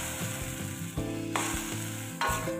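Split lime leaves, tomato and chili stir-fried for Minang dendeng balado sambal, a bright steady sizzle broken by repeated scraping strokes of a spatula, rising sharply as ingredients are tossed.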